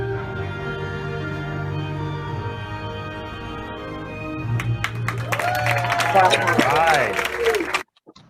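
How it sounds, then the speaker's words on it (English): Audience applause and cheering swell near the end of a live stage evening with a comedian, rising over music and fading suddenly into silence. "And I see, you're clapping."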